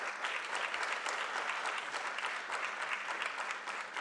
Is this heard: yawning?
no